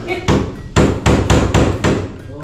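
Hammer blows struck in a steady rhythm, six sharp, loud impacts spaced about a third of a second apart, close to the microphone with no voices.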